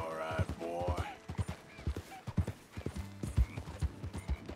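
Horse hooves clip-clop in a steady rhythm, joined by a loud whinny near the start as the horse is spooked by a snake, from the game Red Dead Redemption 2.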